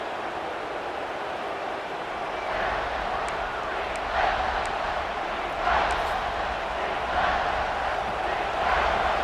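Stadium crowd in a football video game near the goal line, a steady distant roar with swelling cheers and whistles rising in waves, fairly faint under the broadcast mix.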